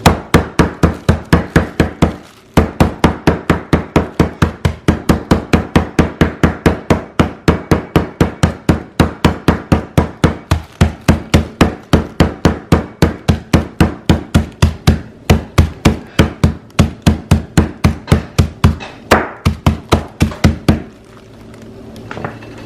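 Steady, rapid pounding as ginger is crushed in a plastic bag, dozens of sharp blunt strikes in a fast even rhythm with one brief pause, close and loud, with no talking.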